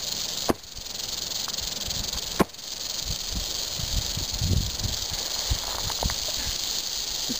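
An eastern diamondback rattlesnake in Florida gives a steady, dry, hissing rattle that buzzes continuously throughout at close range, with two sharp clicks near the start.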